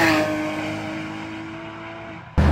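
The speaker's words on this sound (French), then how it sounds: "une GT3, c'est une Club Sport blanche, elle fait un super bruit par rapport aux autres" A white Porsche GT3 Club Sport gives a sustained engine drone with a steady tonal whine that slowly fades over a couple of seconds, then a sudden loud burst cuts in at the very end.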